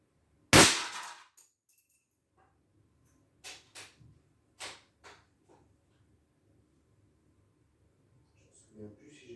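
A single sharp shot from an Umarex Hammerli 850 Airmagnum 16-joule CO2 air rifle cracks loudly and close, followed after a pause by a few faint knocks and handling sounds and brief murmurs of talk.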